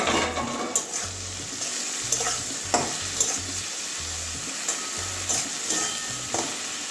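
Okra frying in a pan for mustard okra, a close, continuous sizzle and hiss broken by scraping stirs and occasional clinks of the utensil against the pan.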